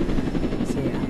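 A helicopter in the Roblox video game drones with a steady, loud rotor chop that pulses rapidly throughout.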